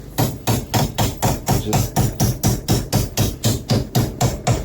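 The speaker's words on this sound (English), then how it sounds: "I'm going to try and get a hammer and try and get in there" A hammer bangs on jammed, ice-frozen metal parts of a 2000 Kawasaki KVF400 drum and differential in a steady rhythm, about fourteen loud, close strikes at an even pace with short ringing after each.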